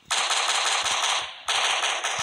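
Rapid automatic gunfire from a FNAF video game mod, a dense rattling burst lasting over a second, a brief dip, then a second loud sustained burst, close and alone with no talk.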